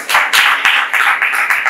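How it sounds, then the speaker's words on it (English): Church congregation clapping in rhythm during a sermon, a quick series of sharp, loud, close claps in an uneven beat, about eight to ten strikes over a couple of seconds, with no talking. "Clap to Jesus."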